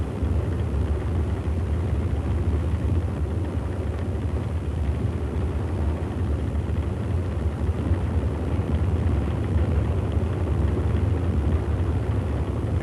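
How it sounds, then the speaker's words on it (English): A giant 1930 Imperial Airways British airliner, weighing about 13 tons, gives a continuous, heavy droning engine roar that stays steady and unbroken throughout, with no talking. "This is the first of a fleet of giant British airliners for use on the Imperial Airways air route"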